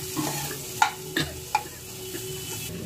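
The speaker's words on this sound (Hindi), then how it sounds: "इन्हें भी अच्छे से मिक्स करेंगे" A spoon stirs boiled potato pieces in a pan with a soft sizzle, giving a few distinct scraping knocks against the pan amid a quiet frying hiss, close and without talking.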